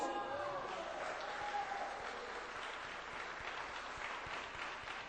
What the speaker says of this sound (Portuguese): erga a sua voz, glorifique o nome dele e aplauda o Senhor Jesus